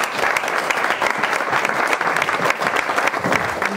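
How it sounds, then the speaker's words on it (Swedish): Audience at the 2013 Borås association gala giving a big round of applause, dense, close, steady clapping from a full room that carries on without pause. "En stor applåd"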